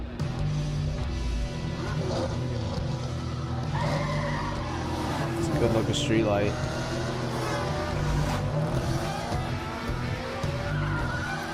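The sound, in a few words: cars skidding in a video game trailer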